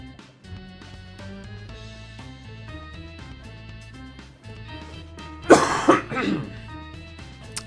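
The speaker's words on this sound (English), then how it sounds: "I was trying to hold that cough in so long." A single loud cough with throat clearing bursts out over steady background game music during a Minecraft session, brief and close.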